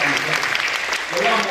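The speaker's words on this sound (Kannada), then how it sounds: "ಮತ್ತೊಮ್ಮೆ ಒಂದು ಚಪ್ಪಾಳೆ ಇರಲಿ" An audience claps for children after their stage dance at Ravindra Kalakshetra in Bangalore, giving a short burst of steady applause heard under someone speaking.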